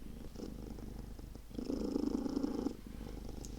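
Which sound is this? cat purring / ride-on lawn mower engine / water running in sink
cat purring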